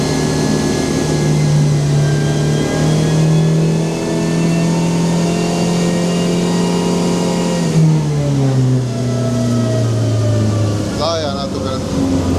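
A Suzuki Swift rally car engine running hard on a dyno, a loud steady mid-pitched drone that holds then drops and climbs again as the revs change, a continuous strained roar with a brief whine near the end.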